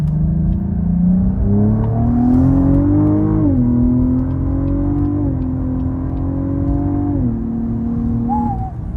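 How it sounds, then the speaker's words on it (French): A car engine with a sport exhaust revving hard and continuously up close, its loud droning roar rising and falling in pitch over several seconds, with a brief higher whine near the end. "Le bruit, c'est ce qu'il faut, je pense, pour une voiture de papa pressé."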